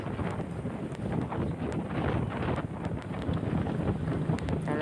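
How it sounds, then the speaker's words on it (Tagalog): Strong wind roars and buffets steadily against the microphone, a constant rushing blast as riders speed along on a motorcycle across a long bridge in Lubang, Occidental Mindoro. "rinig na rinig ang pagaspas or yung hampas ng hangin sa amin"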